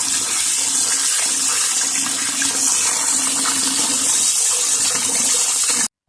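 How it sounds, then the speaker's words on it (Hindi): Water gushes steadily over half a kilo of basmati rice being washed, a continuous close splashing rush that fills the whole stretch and cuts off abruptly at the end. "सबसे पहले मैं चावल धो के रखने लगी हूँ।"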